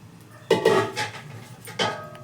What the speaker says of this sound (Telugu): వీటన్నిటినీ కలిపి ఒకసారి మిక్స్ చేసేసుకోండి.